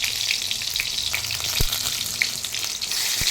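Fish frying in hot oil, a dense, steady close sizzle with a few sharp pops and crackles and no talking.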